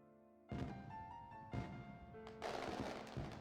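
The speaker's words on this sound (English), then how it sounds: "the two of us simply look up at the fireworks in silence" Fireworks go off in a video game, three or four separate sharp bursts, each followed by a crackling, rumbling decay, sounding fairly close and full, with no talking.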